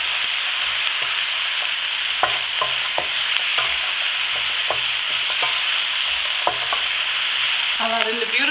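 Vegetables, garlic, grated ginger, cauliflower and broccoli stir-frying in a hot pan, with a steady, close sizzle and scattered scraping stirs throughout, no voices.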